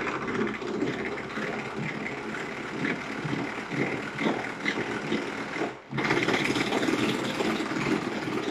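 An electric hand mixer running at speed 1 while blending milk into a liquid cake batter for a soft chocolate-chip cake, giving a steady close motor whir with a brief dip near the end and no talking.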